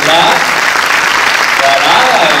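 Loud, dense audience applause in a Paris cinema at the premiere of La daronne, continuous clapping filling the room with a voice speaking over it.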